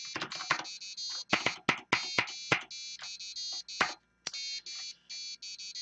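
An Arduino buzzer on a ramen timer sounds in a choppy series of shrill electronic beeps, some short and some sustained, with brief gaps, loud and close.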